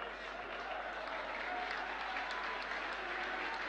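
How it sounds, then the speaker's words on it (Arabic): Stadium crowd at a Moroccan Botola Pro football match between RS Berkane and Wydad Casablanca applauding steadily as a player leaves the pitch, a dense, continuous wash of clapping throughout. "تحت تصفيقات الجماهير الحاضرة الأغلب"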